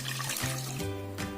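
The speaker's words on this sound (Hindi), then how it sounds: "इसमें 1 गिलास पानी डाल देंगे।" A glass of water poured into churned cream where butter has separated out: a short, close trickling and splashing pour, quiet and alone.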